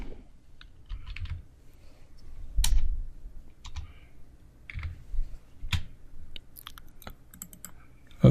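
Someone types a SQL query on a computer keyboard, producing quiet, irregular key clicks in short bursts with small pauses, close to the listener and with no talking.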